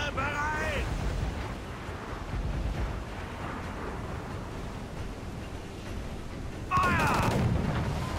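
Heavy booming cannon blasts rumble through a noisy, chaotic naval battle against a fort in Assassin's Creed IV: Black Flag, with a loud burst near the end and voices shouting over the din.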